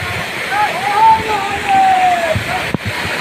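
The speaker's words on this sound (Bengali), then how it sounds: "এই বিভৎস ঝর্ণার জল দিয়ে সবাই যখন ঘোরা করে যাচ্ছে" A rushing waterfall roars steadily along a rough path, with a loud continuous wash of water close by under a voice that speaks over it.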